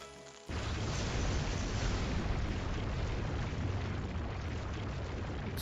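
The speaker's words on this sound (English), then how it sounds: "Explosion!" Explosion in the video game Trails to Azure, a sudden blast that opens into a sustained loud rumbling roar lasting several seconds.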